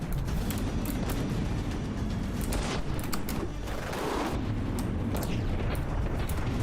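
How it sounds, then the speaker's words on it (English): Rapid railgun fire and explosions fill a naval battle in the From the Depths game, a dense and steady run of loud cracks and booms that overlap with each other and never stop, with no talking. "these railgun shots are fast"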